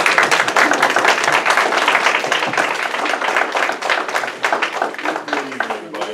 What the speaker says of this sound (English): Y'all can applaud.